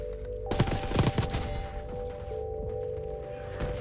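Several rapid gunshots from a Black Ops 6 video game firefight crack in a tight burst near the start, then fade into steady game ambience with a faint later shot.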